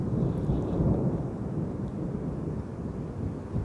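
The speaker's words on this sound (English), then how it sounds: "nice thunder" A deep, continuous rumble of thunder rolls through an Arizona monsoon storm in the desert, steady and loud throughout, with a windy hiss over it and no voices.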